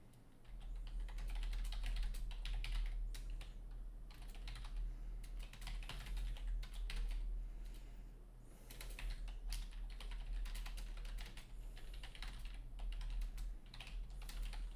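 Rapid, steady typing on a computer keyboard clatters close by over a constant low hum, the keystrokes running continuously with brief pauses.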